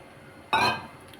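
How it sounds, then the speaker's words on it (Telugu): A single short splash as tamarind juice is poured into a pot of simmering drumstick dal (mulakkaya pappu), close and fairly loud, then fading quickly against a quiet kitchen background with no talking. "ఇందులోనే కొంచెం చింతపండు పులుసు"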